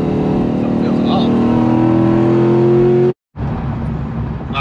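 Corvette C5 Z06 fitted with Nitto NT555 G2 tires driving through a curve, its engine a steady loud drone from inside the car that briefly drops out before resuming.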